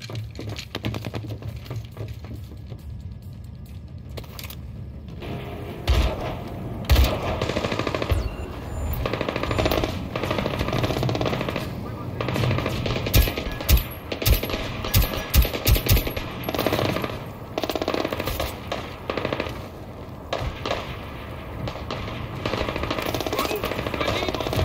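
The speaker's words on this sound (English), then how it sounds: "Lay down suppressing fire." Sustained automatic gunfire from a firefight in Splinter Cell Blacklist, dense rattling bursts that run for the whole stretch with loud peaks in the middle, over a constant background of game noise.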